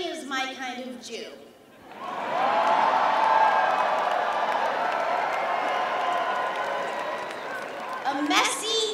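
Large crowd noise at a rally in Los Angeles: sustained cheering and clapping that swells and holds for several seconds, with a voice speaking briefly before and after.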